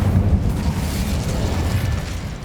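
An Incendio fire spell erupts in Hogwarts Legacy inside a decayed catacomb, a dense, roaring whoosh of flame with low rumbling that stays loud throughout.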